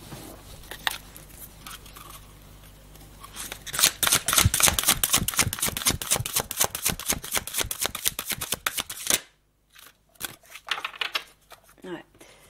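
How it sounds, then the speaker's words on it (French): Oracle deck of divination cards being shuffled by hand, a dense run of rapid crisp riffling clicks that stops abruptly, followed by a few softer card slaps and draws, with some quiet talk at the start. "Je vais tirer une carte oracle pour conclure."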